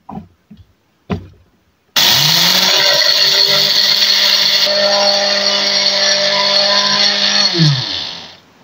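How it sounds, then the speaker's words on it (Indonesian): A kitchen blender grinds corn-based fishing bait, a loud, steady whir that runs for several seconds after a few knocks and clunks, then spins down. "Nah ini masuk ke blender."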